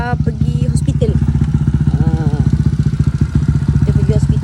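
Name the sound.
motorcycle engine running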